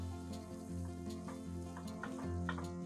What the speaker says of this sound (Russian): Обжариваем ее на небольшом огне примерно 2 минуты.